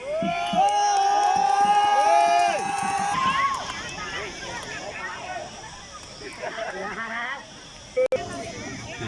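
Crowd of supporters cheering at a football match penalty shootout, a loud whistle-like tone and noisy roar at first, then broad crowd babble and shouts continuing at moderate level, with voices talking over it.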